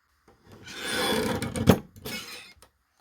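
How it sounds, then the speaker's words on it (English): Paper is trimmed for a handmade pocket journal: one drawn-out scraping cut lasting about two seconds, nearby and moderately loud, with a brief sharp snap near the end. "Let's trim that just a smidge bit taller."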